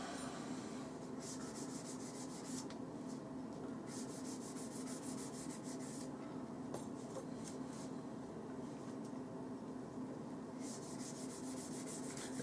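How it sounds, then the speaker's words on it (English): Coarse 80 grit Abranet abrasive rasps against the outside of a knifemaking mosaic pin tube in repeated scoring strokes, a close, steady scratchy rubbing in bursts with short pauses. "this is just a bit of 80 grit abranet. And all I'm doing is just scoring the outside of the tube."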